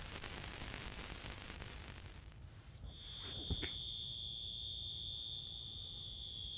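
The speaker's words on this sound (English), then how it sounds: "Oh, security alarms are going off." An alarm in an abandoned, flooded mall switches on partway through: a continuous, loud, high-pitched electronic tone that holds steady over a constant rumbling background hiss, with no talking.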